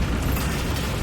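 A Bombarda spell explodes in Hogwarts Legacy, a dense, sustained rumbling blast that fills the whole moment with loud low-end roar and no talking.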